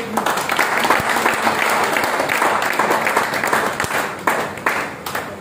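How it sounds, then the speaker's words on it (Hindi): An audience applauds at a company anniversary session on direct selling, producing a dense, loud and steady burst of clapping that carries on throughout. "तो अगर आप सभी लोग रेडी हैं तो एक बार तालियां बजा सकते हैं।"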